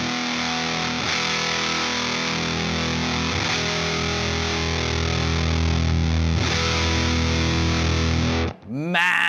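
Heavily distorted guitar through a distortion pedal as its low, mid and treble EQ are swept, sustained buzzing tone shifting gradually over several seconds, loud and continuous, cutting off abruptly near the end.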